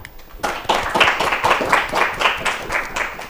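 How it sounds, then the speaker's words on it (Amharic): Studio audience applauding a student contestant on an Ethiopian children's TV quiz show, a dense steady patter of many hands that starts abruptly and keeps an even rhythm throughout. "እሺ በድጋሚ አጨብጭቡላት"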